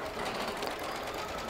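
A Baby Lock embroidery machine basting batting to a quilting project, giving a faint, steady mechanical whir and rapid stitching patter, close by with no talk.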